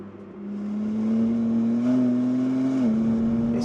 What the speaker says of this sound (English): It's definitely got a bit of straight six about it